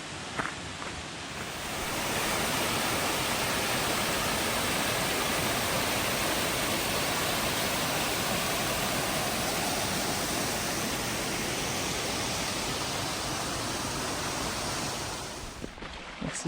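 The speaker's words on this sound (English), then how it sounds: "So we've got water right here. It's raining lightly on us." Water rushing steadily beside a hiking trail on the West Highland Way under light rain, a broad, constant roar close by that swells in and holds evenly without voices.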